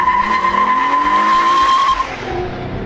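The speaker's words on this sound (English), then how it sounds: "Now I really admire the way Hyundai's tuned the exhaust on this V6. You get all the growl you would want" A 2013 Hyundai Genesis Coupe V6 roars close and loud with a sustained tone, then the pitch and level drop away as the car passes or eases off.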